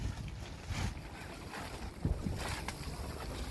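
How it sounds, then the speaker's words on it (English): Strong wind gusts buffet the outside of a damaged greenhouse in 60–70 mph winds, a steady roaring rush with a louder surge partway through, heard alone without talk. "Here's a gust of wind."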